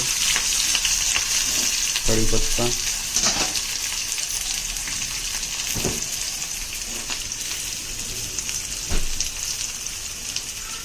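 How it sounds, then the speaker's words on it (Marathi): Onions land in hot oil already sizzling with mustard seeds and cumin, a loud steady frying hiss with a few stirring scrapes and louder crackle around the moment they hit the pan. "मोहरी जीर टाकलं कांदे"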